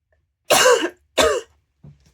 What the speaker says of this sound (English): I think that's it with me coughing.